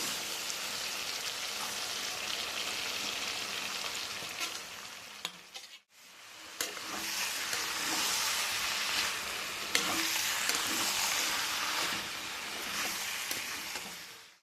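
Fried potatoes and cabbage are stirred in a pan for a Bengali cabbage curry, giving a continuous loud sizzle and scrape with a brief pause midway, with no talking.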